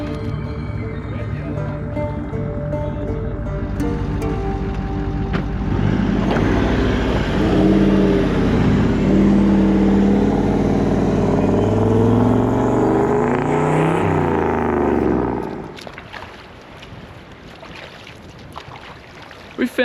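On a remote coastline, a car engine revs loud and close for about fifteen seconds as the stuck vehicle strains for traction. The roar rises and wavers, then cuts off abruptly, leaving quieter outdoor sound.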